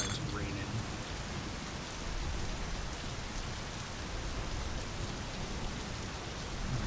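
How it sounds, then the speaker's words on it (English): Steady rain pours down in the driving and car-repair game My Summer Car, a constant, even hiss of drops on surfaces, with no talking. "Oh, and it's raining."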